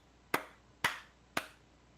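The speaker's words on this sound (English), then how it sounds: "All right, 3 claps." Three crisp, separate hand claps at an even pace of about one every half second, close and clear against a quiet room.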